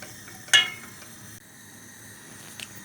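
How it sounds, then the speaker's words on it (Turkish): Béchamel sauce being stirred in a pan as it cooks, with one sharp clink of a utensil against the pot near the start, then a faint steady sizzle and soft scraping. "karıştıra karıştıra pişiriyoruz. Sürekli karıştıralım ki topak oluşmasın içinde."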